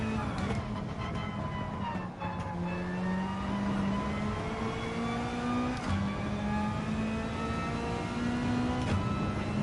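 A race car in Gran Turismo 7 revs hard through its gears during a daily race. The engine pitch climbs smoothly, drops sharply at each shift, and is loud and close throughout.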